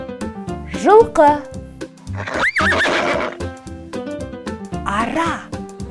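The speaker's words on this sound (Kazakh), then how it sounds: "Жылқы." A horse whinnies loudly with rising and falling neighs, followed by a snort and faint hoof clip-clop, all over cheerful background music.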